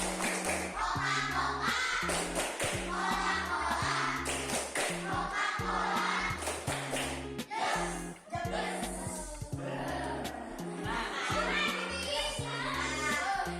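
A primary-school class, fifth graders, performs the tepuk Coca-Cola rhythmic clapping game, loud patterned claps in quick sequences interleaved with children chanting together, steady and energetic throughout with a brief dip midway.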